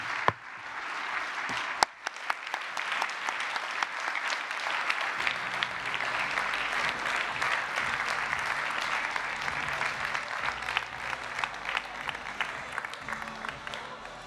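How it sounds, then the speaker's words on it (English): Applause from an audience at a European employment and social rights forum builds after a single clap into steady, sustained clapping from many hands, filling the hall for the rest of the stretch. "I want to applaud them"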